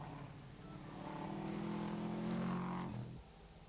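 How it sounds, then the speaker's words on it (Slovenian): A Lancia rally car accelerates at a 1992 rally in Velenje, its engine note rising steadily in pitch before cutting off, heard faint and at a distance. "Tule Lancia bratov Francelj, Andreja in Iztoka"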